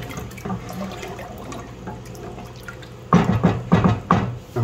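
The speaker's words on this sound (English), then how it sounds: "I'm just going to give this a quick stir." Salted water stirred in a large pot, quiet sloshing at first, then several louder close splashing and clinking bursts toward the end.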